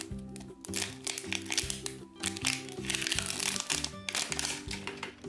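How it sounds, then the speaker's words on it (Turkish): Crinkling and tearing of plastic wrap as the second layer of a LOL Surprise doll egg is opened, close crackly rustles in bursts over steady background music. "Şimdi ikinci katmanı açıyorum. Bu 5 sürprizli bir yumurta."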